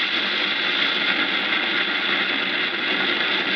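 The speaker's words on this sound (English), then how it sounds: "But the only sound you hear hang gliding is the wind." Wind rushes past steadily while hang gliding in Brazil, a constant loud broadband roar with no breaks or voices.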